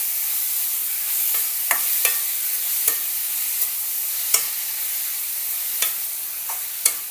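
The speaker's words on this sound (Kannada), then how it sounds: "ಮೂಲಂಗಿ ಹಸಿ ವಾಸನೆ ಹೋಗೋವರೆಗೂ ಒಂದು 5 ನಿಮಿಷ ಸಣ್ಣ ಉರಿ ಒಳಗೆ ಈ ರೀತಿ ಫ್ರೈ ಮಾಡ್ಕೋಬೇಕು." Grated radish sizzling in a tempering pan over low heat, a steady quiet frying hiss punctuated by several sharp spoon scrapes and taps as it is stirred, with no talking.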